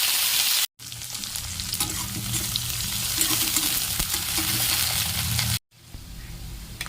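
Onion frying in hot oil with cumin in a kadai, a dense continuous sizzle with stirring scrapes, close and fairly loud, broken by two brief silent cuts.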